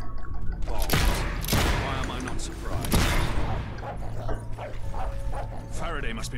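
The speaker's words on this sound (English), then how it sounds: "I have a feeling these dogs aren't here to play catch with us." Several dogs bark and yip in the video game Fable III amid combat noise, with sharp impacts and snarls mixed under a person talking.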